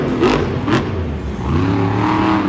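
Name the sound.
monster truck engine revving, Monster Jam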